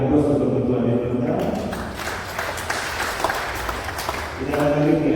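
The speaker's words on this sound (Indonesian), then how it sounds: "Saya minta berikan aplaus untuk Ketua DPR." Parliament audience applauds the speaker of parliament at a public seminar on Papua's special autonomy, a burst of clapping that swells between stretches of amplified voice, with talk before and after.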